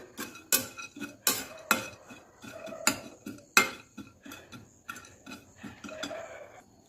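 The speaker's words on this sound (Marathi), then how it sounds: "आता मी कढईत टाकून घेते एक दोन चम्मच कट केलेले बदाम टाकून घेते याला आपण हलकंसं फ्राय करून घ्यायचं आहे" Chopped almonds are dry-roasted and stirred in a kadhai, heard as a string of sharp metallic clinks and scrapes from a spoon against the pan, about two strokes per second at first, then softer and quicker, close up with no talk.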